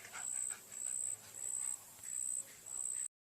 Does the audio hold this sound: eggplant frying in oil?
no